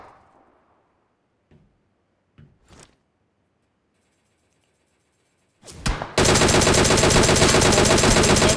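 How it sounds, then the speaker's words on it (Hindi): Enemy gunfire in a shooter video game: a few faint isolated shots and clicks, then a sudden loud, sustained burst of rapid automatic fire close by, continuing steadily to the end with no talking. "वो फायर कर रहे थे मुझ पे"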